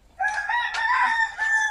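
A rooster crows once, loud and close, a long strained call that holds through most of the clip after a brief quiet start.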